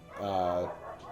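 A person imitates a small dog's bark with their voice, a single short harmonic yelp close to the microphone with no other sounds around it.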